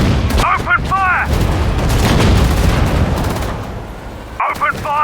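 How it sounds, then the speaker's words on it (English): Gunfire and explosions rumble through a Battle of Dunkirk mission in the WWII strategy game Sudden Strike 4, a dense, loud barrage with short game voice lines shouting over it. "Open fire! Come on! Open fire!"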